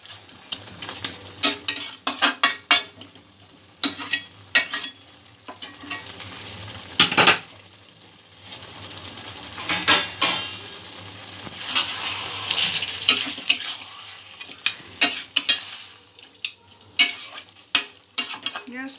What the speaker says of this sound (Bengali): গ্যাসের ফ্লেম মিডিয়াম লোতে রেখে মাংসটা ভালো করে কষে নেব।